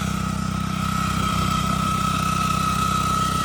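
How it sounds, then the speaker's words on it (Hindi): A machine fitted with an Italian turbo engine and a Carraro gearbox idles with a steady, even mechanical drone that holds at one level throughout, with no voices. "ये देखो भाई कितने स्पीड से आरपीएम पकड़ लेती है मशीन"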